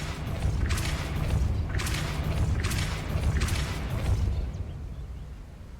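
A Depulso force spell in Hogwarts Legacy fires as a run of four or five heavy whooshing bursts over a deep rumbling bed, each swelling and fading in turn before the sound thins out.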